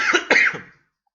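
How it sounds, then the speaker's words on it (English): Two harsh, close coughs in quick succession after vaping from a broken electronic cigarette, the second stronger, trailing off into silence. "This cigarette is so bad it makes me cough so much."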